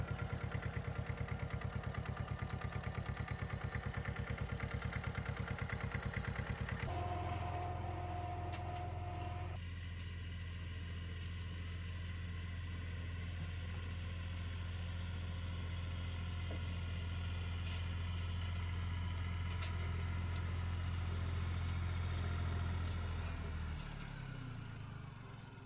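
A small but powerful 4x4 mini tractor with its articulation joint under the seat runs steadily, its loud engine drone holding level for most of the clip before cutting off near the end; a harsher, louder burst opens the first seconds.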